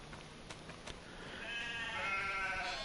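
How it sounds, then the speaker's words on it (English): Sheep bleat in Farming Simulator 25 from a pen holding 125 animals. Several overlapping calls rise out of a soft ambient bed, growing fuller and louder through the second half. "So yeah, I got 125 sheep."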